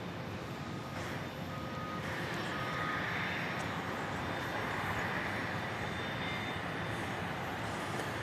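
A Southwest Airlines jet at Dallas Love Field airport produces a steady, broad engine roar from a distance, unbroken throughout.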